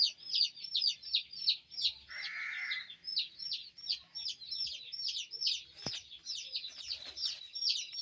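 Aseel Amrohi chickens, a hen and roosters, call in a repeated string of rapid high clucks and chirps, with one sharp knock partway through.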